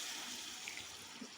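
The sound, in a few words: water poured into pan of frying masala with brain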